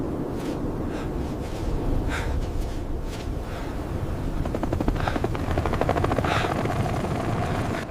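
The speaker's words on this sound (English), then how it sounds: "as the whir of blades grew louder" Steady, loud whirring of helicopter rotor blades fills the air continuously, with a rhythmic chopping pulse that grows slightly stronger.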